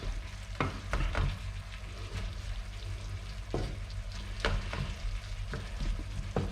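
Minced meat fries with garlic in a pan for a pasta dish while a utensil stirs it, giving a steady low sizzle broken by repeated scraping strokes against the pan.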